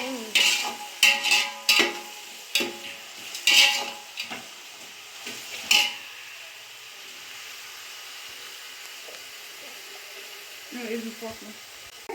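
Food frying in a pan while being stirred, with sharp utensil clinks and scrapes in irregular bursts over a soft sizzle, then quieter; a voice is briefly heard near the end.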